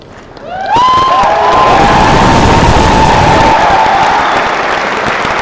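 A graduation audience at UWC Dilijan applauds the class of 2017 as they file out. Loud, dense clapping swells within a second and holds steadily, with cheers and a rising whistle mixed in.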